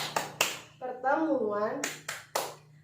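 A group doing the rhythmic P2K2 clap at a family-skills meeting: a few sharp, loud hand claps in quick bursts at the start and end, with a person talking in between.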